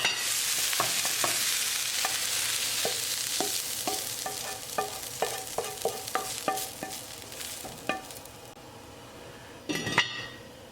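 Beef frying in a pan for a stew, a continuous sizzle with a run of sharp, evenly spaced clinks and scrapes from stirring and a louder clatter near the end.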